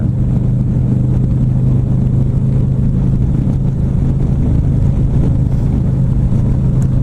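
A Harley-Davidson 2017 Ultra Limited touring motorcycle engine drones steadily on a test ride, a loud, close, continuous low rumble blended with wind and road noise, with no talking.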